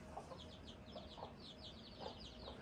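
Chicks and chickens clucking and peeping outside their coop on their first outing, soft repeated high cheeps with occasional lower clucks, steady and moderately close.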